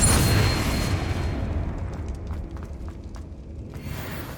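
A Confringo blasting spell in Hogwarts Legacy goes off as a loud, broad explosive boom at the start, then a rumbling tail fades slowly with faint scattered crackles.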